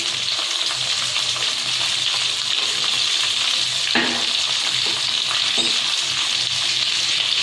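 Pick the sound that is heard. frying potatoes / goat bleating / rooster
frying potatoes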